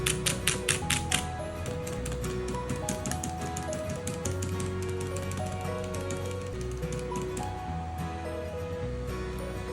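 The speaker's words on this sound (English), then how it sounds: "Just doing a final test by smashing the keys to make sure that it does not trigger a restart." Keys on a Keychron mechanical keyboard are hammered in a fast flurry of sharp clicks at first, then tapped more sparsely, with steady background music playing underneath.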